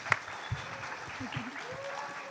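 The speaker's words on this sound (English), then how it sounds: "And another round of applause for our guests up here on stage." An audience claps for guests on a stage at a live superhero fantasy draft event, moderately distant applause with a few sharper claps and faint crowd voices.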